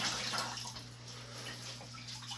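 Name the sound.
water being removed from toilet bowl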